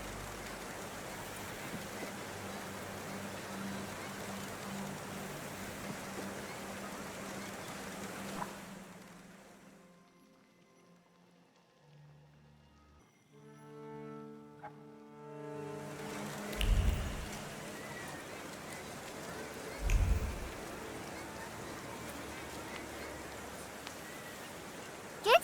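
Steady rain hisses across a moody scene in The Thaumaturge, fading out mid-clip while soft musical tones play, then returning with a couple of heavy thuds under the downpour.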